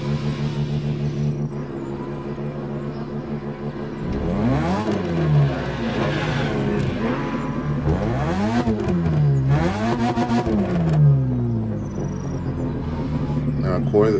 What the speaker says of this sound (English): You hear the idle of this car?